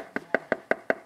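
Six sharp, evenly spaced knocks in quick succession, each a crisp hollow rap, close and moderately loud with no voices.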